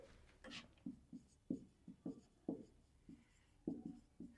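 Pen strokes on paper while a math problem is written out, a series of short distinct scratches in an irregular rhythm, close and quiet with no talk over them.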